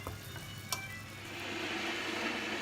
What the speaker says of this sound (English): keep browning until all the mince has gone brown